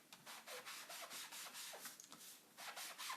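A sanding sponge rubs back and forth across a surface in quick, rhythmic strokes, a soft, close, scratchy hiss repeating with short pauses between passes.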